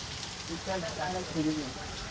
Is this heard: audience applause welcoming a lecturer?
no